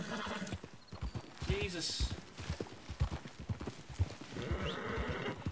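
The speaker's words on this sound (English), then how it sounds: "I have 3 horses following me here" In Red Dead Redemption 2, several horses clop along with steady hoofbeats while one neighs partway through, and a man briefly exclaims over the busy outdoor game sound.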